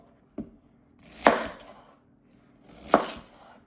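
A Swisstech outdoor knife with an AUS8 steel blade chops an onion, landing in a few separate cuts with pauses between them, each a crisp thunk on the board, close and alone.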